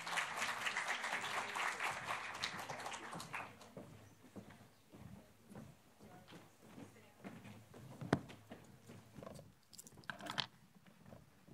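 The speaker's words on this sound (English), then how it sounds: "So if I can ask a warm applause for Xiaoshen, Deepak, Vanessa, and Srinivas to come on stage." An auditorium audience at the 2019 OECD Anti-Corruption & Integrity Forum claps as speakers come on stage. The applause is full for a few seconds, then thins into scattered, fading claps with some background voices.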